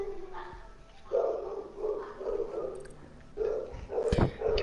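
A dog barks repeatedly over noisy background during a gaming session, the rhythmic barks moderately loud and layered with room and game noise.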